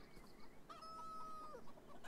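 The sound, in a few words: chickens clucking in a video game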